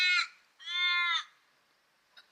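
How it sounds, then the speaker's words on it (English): A crow or raven outdoors at a car park gives two harsh caws, the second longer and rasping, fairly close, followed by a faint brief tail sound in quiet surroundings. "A crow or a raven or whatever?"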